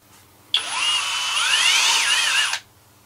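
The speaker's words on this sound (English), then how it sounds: "Drill bit goes in, ready to go." A HOTO 12V brushless cordless drill whirs up sharply, runs at a high steady whine for about two seconds, then winds down and stops. Close by and loud.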